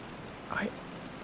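Steady, soft rain hisses evenly throughout, with a brief faint voice fragment rising over it midway.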